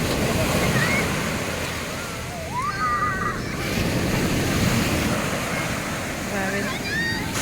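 Heavy waves roar and churn continuously at Tiwitiwi Beach in Legazpi, Albay, a dense close wash of surf with wind, and a few brief voices rising faintly above it.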